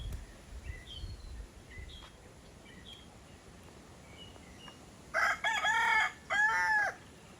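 Rooster crowing on a homestead farm, two loud, close crows near the end after faint chirps and quiet outdoor ambience.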